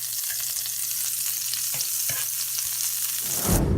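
A dab of butter or margarine sizzling in a hot frying pan for gluten-free, dairy-free pancakes, a steady close crackling hiss with a few soft clicks, swelling louder at the end.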